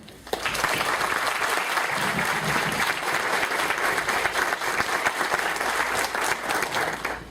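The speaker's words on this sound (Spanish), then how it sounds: "Recibámosle con un aplauso" Steady applause from an audience at a talk, dense clapping sustained evenly throughout at a moderate distance, with a few faint voices mixed in.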